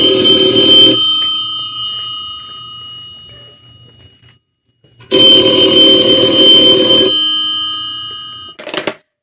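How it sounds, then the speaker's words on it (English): An old-style telephone bell rings loudly twice in long bursts separated by a pause, then a brief third ring begins at the end, as a call is put through to a police department. "Ringing the police department."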